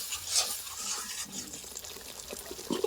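A spice mixture loosened with water is stirred in a pan for a bitter gourd curry, giving quiet, soft wet swishing and scraping with faint liquid sizzle, close and low in level.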